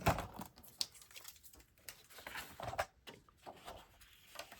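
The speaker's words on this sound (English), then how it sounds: "so I'm going to cut off on this side" A strip is cut off a craft frame, giving quiet, irregular snipping and crinkling sounds close by, with soft rustling between the cuts and no one speaking.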